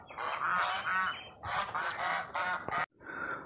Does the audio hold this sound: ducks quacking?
yes